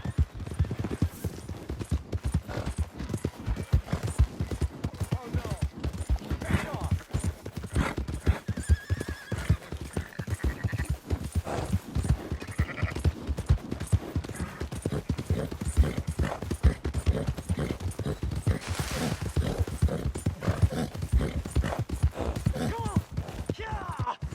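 Rapid hoofbeats pound steadily throughout as a horse gallops in the video game Red Dead Redemption 2, with whinnies breaking in and voices calling out over the clatter.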